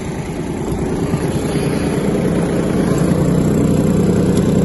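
Kubota GT-21 mini tractor engine running with the power take-off disengaged, a continuous close mechanical rumble that rises slightly in level, alone without speech.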